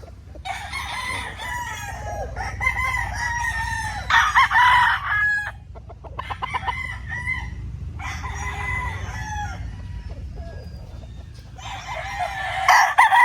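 Raptor Sweater gamefowl roosters crow and cluck in a breeding setup, several loud nearby crows in bursts separated by short pauses, with softer clucking between them.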